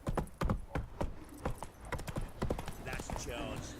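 Horse hooves clip-clop in the video game The Witcher 3 in a quick, uneven trot, with a voice talking over the hoofbeats.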